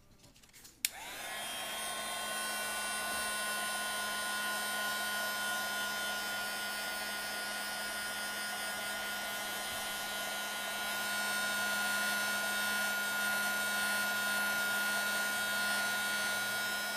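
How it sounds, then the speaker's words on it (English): A heat embossing tool blows hot air over a snowy-themed craft project, a steady loud whirring roar that starts abruptly after a click and runs continuously with a slight rise near the end. "we'll give it one more shot with the heat embosser"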